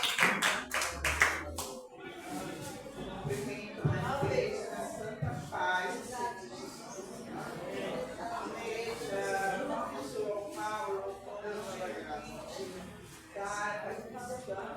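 A church congregation claps in rhythm during a worship service, a brisk burst of hand claps up front giving way to scattered tapping and shuffling under voices talking and singing.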